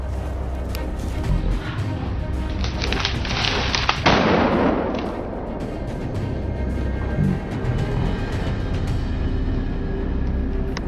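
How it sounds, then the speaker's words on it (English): Repeated gunshots ring out during a wild boar hunt, a loud burst of sharp cracks peaking in the middle and trailing into rumbling, echoing reports over steady background noise. "I quickly raised my gun and pulled the trigger repeatedly. After that series of shots, my teammates and I managed to take down one more target."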